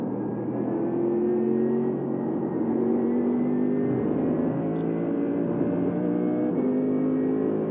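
Steady engine drone of a Mercedes-AMG car in a racing video game, a continuous mid-level hum with harmonic tones held throughout at an even loudness, no voices.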